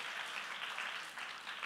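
A congregation at a Sunday school anniversary applauds its teachers and directors with dense, steady clapping. The sound is brief and continuous from start to finish.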